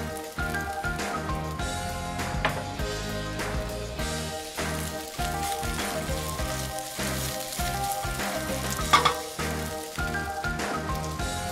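Pork and ginger sizzle steadily in an oiled pan, a dense, constant frying hiss heard up close with no break, alone without talk.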